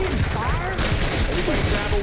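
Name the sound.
gunshot in the video game Left 4 Dead 2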